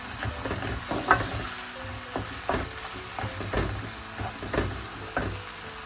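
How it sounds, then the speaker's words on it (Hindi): A spatula stirs eggplant and potato with spices, green chili and ginger in a sizzling pan, with repeated scraping strokes over a constant low frying hiss, close and fairly quiet. "इनको अच्छी तरह मिक्स कर लेंगे सारे मसालों को इसमें"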